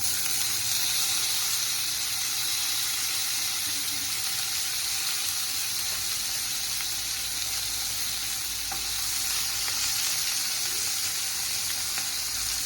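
Carrots and mixed vegetables sautéing in a pan for a mixed vegetable curry, a steady loud hissing sizzle that holds level throughout, with faint occasional stirring clicks and no voices.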